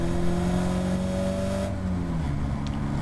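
A Caterham Academy race car at Oulton Park circuit roars at full throttle, engine pitch climbing steadily and then dropping as it shifts, loud and continuous with no talk.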